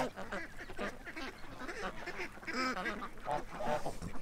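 A flock of farm geese calls in a noisy overlapping chorus of honks and quacking cackles, close and continuous for several seconds.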